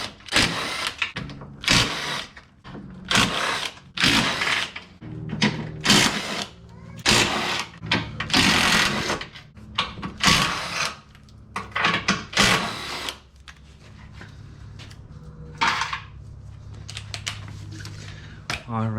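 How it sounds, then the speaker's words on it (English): Quick ratcheting clicks from a 13mm socket undoing nuts on a 2000s Mini Cooper S R53, coming in short repeated bursts close by with pauses between, and a voice talking briefly in the gaps. "13mm socket for these bolts"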